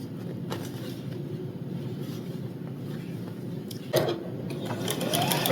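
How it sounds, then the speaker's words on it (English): A sewing machine joins quilt pieces with a steady, close, fast mechanical whir that runs continuously, briefly interrupted by a clunk before picking up again. "that way I can sew all of this together"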